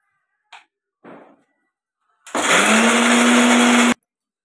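An electric mixer grinder whirs loudly for about a second and a half, grinding red chutney for vada pav, preceded by a couple of short bumps and rattles of handling.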